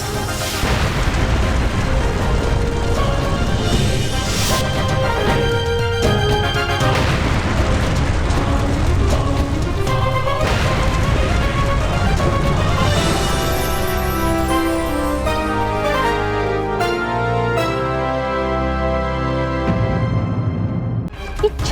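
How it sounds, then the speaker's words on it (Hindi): Explosions in the fantasy TV show Baalveer boom through the magical realm of Chhal Lok as loud, continuous, rumbling blasts. In the last stretch the booms give way to dramatic sustained musical tones. "इन धमाकों की आवाज तो कैद खाने की दिशा से आ रही है।"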